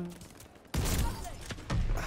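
An automatic shotgun fires in Call of Duty: Vanguard: a couple of heavy, booming blasts after a quiet lead-in, close and loud, with talking mixed in.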